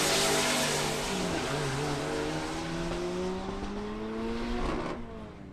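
Turbocharged LS-powered VH Commodore and Gemini wagon tear down a drag strip, loud engines wailing with rising gear-by-gear pitch sweeps, close at first then easing away.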